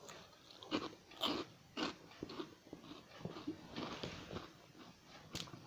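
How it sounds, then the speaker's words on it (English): Crunchy Transform A Snack saucy BBQ flavour snack being bitten and chewed up close, a series of quiet irregular crunches. "I'm going to eat this now"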